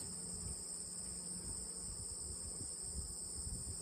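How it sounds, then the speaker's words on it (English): Honey bees hum softly in an open hive during an inspection, a steady low drone with a constant high insect whine above it, with no talk. "Just gentle bees."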